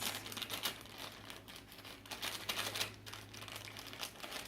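A plastic bag of brownie mix crinkles and rustles as it is handled and cut open with scissors, soft close crackling in irregular bursts.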